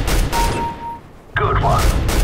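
Counter-Strike: Global Offensive deathmatch gunfire on the fy_iceworld_classic map, with dense bursts of shots at the start and again near the end around a short lull, while voices talk over it.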